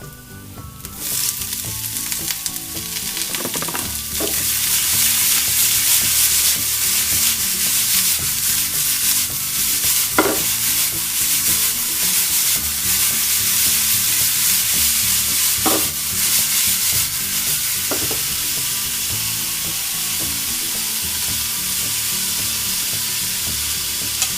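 Sliced potatoes sizzle and fry steadily in a hot pan for a spinach and potato dish, a loud continuous crackle with occasional scrapes of stirring and no voices.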